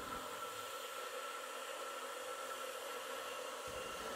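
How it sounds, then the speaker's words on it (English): A CNC end mill runs an adaptive clearing pass on 1215 steel, giving a steady, loud, broadband whine and hiss that holds constant throughout with no talk. "The end mill drops down the through hole, allowing it to immediately start cutting at full depth."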